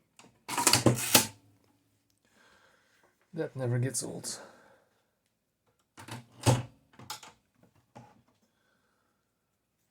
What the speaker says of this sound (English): Time to do some typing.